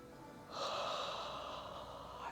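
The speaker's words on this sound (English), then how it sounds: "Big yawn." A single big yawn during a gentle yoga session, rising suddenly after a brief quiet start and held as a long, breathy, voiced exhale that fades slightly toward the end, close to the microphone and alone.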